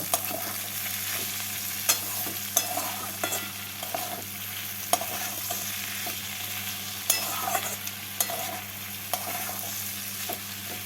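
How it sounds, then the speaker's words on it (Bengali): Tangra fish curry with slit green chilies and red chili powder sizzles steadily in a pan while being stirred. Regular scraping clinks of the spoon sound close over the continuous frying hiss. "দেবো হাফ টিস্পুন লাল লঙ্কা গুঁড়ো ভালো করে মিশিয়ে নেব"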